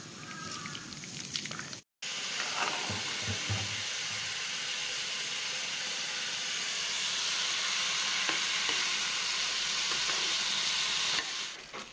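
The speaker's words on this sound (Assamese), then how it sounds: "দালিখিনি উতলিব ধৰিছে" Lentil dal in a pot is just starting to boil, giving a steady, close bubbling hiss that runs the whole time apart from a brief dropout early on; no one speaks.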